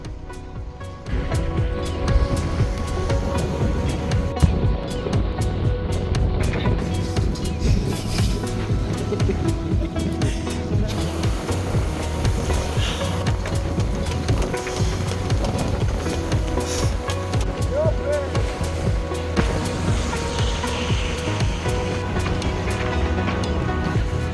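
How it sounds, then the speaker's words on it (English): A sailboat's engine drones steadily at sea off Barcelona, a low continuous rumble with faint water and wind noise around it. "the engine noises sort of defeats the point of sailing"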